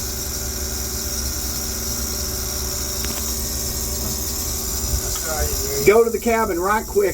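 An engine shudders after an overhauled valve was installed, giving a steady low vibrating drone that runs the whole time; someone speaks near the end over the engine noise.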